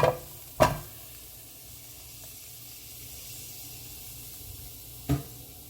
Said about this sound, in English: now I'm going to go ahead and add a stick of butter